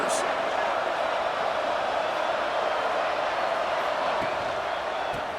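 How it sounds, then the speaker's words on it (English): A large football stadium crowd at a Legends Football League game between Miami and USC, a steady dense roar of many voices filling the space, sustained and fairly loud throughout with no clear individual shouts. "Listen to the crowd energy here in the early going."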